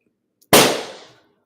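A single loud, sharp pop of a festive balloon bursts out after near silence, then decays quickly in a brief noisy tail.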